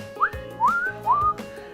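A guinea pig gives three short rising whistles in quick succession, each a brief upward-sweeping squeak, close and clear with a faint low rumble underneath.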